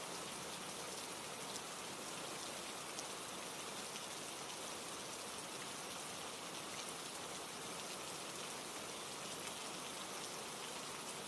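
Steady rain falls evenly on a surface, a dense, unbroken hiss of drops with no pauses or voices, soft and consistent from start to finish.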